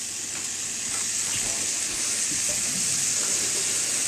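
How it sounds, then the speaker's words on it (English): Green peppers frying in a pan over medium-high heat for a Philly cheesesteak, giving a steady, close, continuous sizzle with faint spatters and no talking. "I always throw the green peppers down first because they take a little longer to cook"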